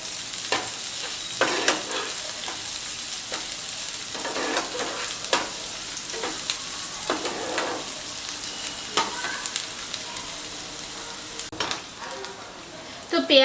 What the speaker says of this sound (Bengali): আর দিচ্ছি পেঁয়াজ কুচি। এগুলোকে হালকা করে একটু ভেজে নেব।